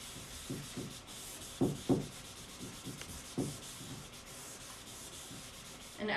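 Annie Sloan chalk paint wax being wiped off a painted surface with a shop towel, heard as soft, close rubbing strokes with a few firmer swipes and a steady faint hiss underneath.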